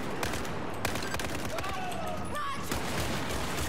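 Gunfire in Battlefield 4, a stream of rapid shots over a dense, busy battle soundscape with other weapons crackling around, steady and loud throughout.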